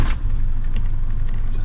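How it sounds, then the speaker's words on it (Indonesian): An Isuzu Panther engine is cranked and started, a loud steady low rumble running throughout with a brief sharper burst right at the start, with no talking. "Mobil saya starter"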